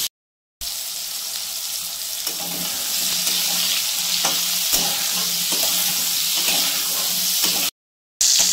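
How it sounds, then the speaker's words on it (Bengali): Ridge gourd sizzles steadily in a hot pan, a dense, even hiss that grows a little louder and continues without pause. "ঝিঙ্গাটা একটু ভেজে নিলে গলবে।"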